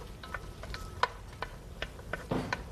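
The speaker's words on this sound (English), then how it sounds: "So I'm just going to get that sauteing for a few minutes." Onion, celery and green pepper sauté in a pan, giving quiet, scattered ticks and crackles with small pops at irregular intervals.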